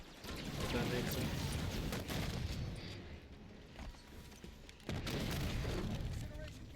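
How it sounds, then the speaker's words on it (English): An incineration cannon fires in a Halo match, heavy booming blasts and rumbling explosions over a dense, continuous bed of gunfire, with a brief lull before another loud round of blasts. "Incineration cannon."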